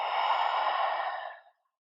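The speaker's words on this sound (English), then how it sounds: "Open mouth, exhale." A single long exhale through an open mouth during a slow, gentle yoga flow, a steady breathy rush lasting over a second before fading out, close and alone with no talk.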